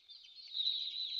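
Chickens clucking in the Garten of Banban video game, a steady high-pitched fowl sound that holds for just over a second at moderate level, with no talk over it.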